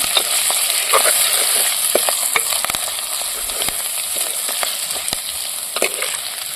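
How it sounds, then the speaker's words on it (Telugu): Drumstick leaf chutney cooking in oil in a pan gives a loud, constant sizzle close up, broken by the scrape and tap of stirring, with no voices. "కొద్దిగా ఒక రెండు నిమిషాలు అయితే బాగా మగ్గిస్తున్నాం నూనెలో"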